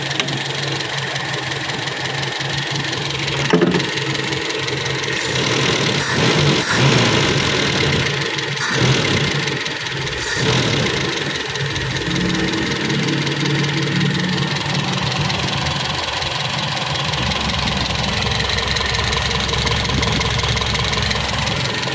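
A freshly rebuilt car engine idling on the test stand, running steady and even with a rhythmic mechanical clatter and a few brief revving bumps, loud and close with no talk.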